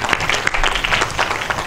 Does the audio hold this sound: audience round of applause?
yes